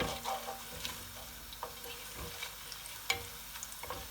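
Whole garam masala spices sizzle softly in a pot for a chicken akhni pulao, with scattered clinks and scrapes from stirring over a gentle crackle.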